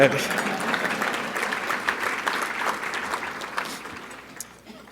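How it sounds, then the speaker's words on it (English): An audience at an LGBTQ+ political gala applauds warmly for several seconds, a dense patter of clapping that gradually tapers off, with a few voices mixed in. "we can give a clap for that"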